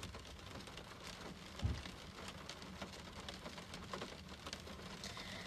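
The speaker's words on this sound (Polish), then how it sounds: "Tak, tak, pada dzisiaj, pada." Steady rain falling outdoors, a faint continuous hiss with scattered patter and one low thump, no voices over it.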